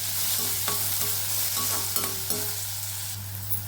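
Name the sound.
sautéing onions in a pan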